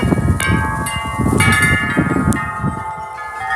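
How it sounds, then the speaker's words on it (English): Wind chimes from a Gregorian collection ring in a gust of wind, clear metallic tones struck repeatedly in an irregular cluster, sustained and overlapping over a steady rustle of wind. "I love the way those are hung, and they sound beautiful together."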